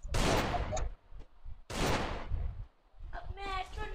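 Two sharp, loud gunshots sound in the Free Fire battle game about a second and a half apart, each with a short ringing tail, then a voice speaks.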